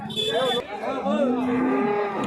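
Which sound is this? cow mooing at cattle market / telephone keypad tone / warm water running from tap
cow mooing at cattle market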